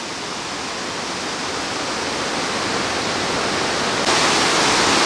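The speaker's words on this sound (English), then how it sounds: "They call it the Big Falls, which is wide but not deep." Big Falls, a wide, shallow waterfall in Sir Richard Squires Memorial Park, Newfoundland, gives a loud, constant roar of rushing water that grows slightly louder toward the end, with no voices.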